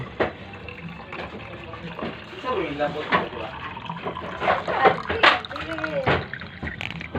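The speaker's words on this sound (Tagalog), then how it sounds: "Butangan na to ning tubig ng ihi guys." Water mixed with urine is poured into a container for organic plant fertilizer, making a close, gurgling trickle that rises and falls while a person talks over it.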